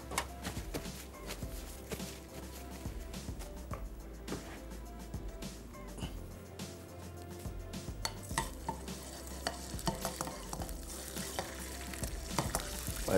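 Garlic paste with crushed red chilli frying in a pan, a steady close sizzle with occasional stirring scrapes and clinks running continuously throughout.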